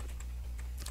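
Keystrokes on a computer keyboard typing a website search, a few quick clicks spread across a second over a steady low hum, close and fairly soft.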